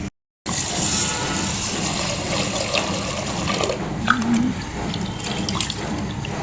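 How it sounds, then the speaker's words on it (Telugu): Water runs steadily from a tap while rice is washed in a pot, producing a constant close rushing flow with small splashes and drips. "ఒక కుండ తీసుకొని 1 కప్పు బియ్యం వేసుకొని 2 సార్లు కడిగి"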